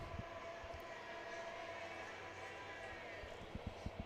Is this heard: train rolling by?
yes